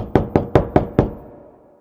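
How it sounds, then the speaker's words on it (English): Five sharp knocks on a wooden door land in a quick, even rhythm, close and clear, with a short fading ring after the last one. "Thumbelina knocked on the door"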